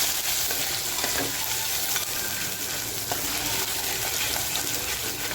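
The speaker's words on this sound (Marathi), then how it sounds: "ती चरबी पण टाकते आणि ती सुद्धा अशी छान फ्राय करून घ्यायची" Mutton fat frying in a pan for a spicy village-style mutton rassa, giving a steady, dense sizzle with a few faint stirring scrapes, fairly close and continuous throughout.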